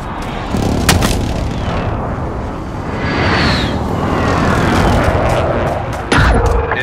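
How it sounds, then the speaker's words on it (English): Artillery strike in Call of Duty Modern Warfare: sharp blasts near the start, then a sustained rumbling barrage of explosions with a sweeping whoosh, and another burst near the end, loud throughout. "Strike inbound."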